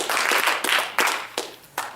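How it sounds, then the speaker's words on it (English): A club audience at a speech event applauds in a short burst of loud, dense clapping that rises and falls in uneven waves. "Give yourselves a round of applause."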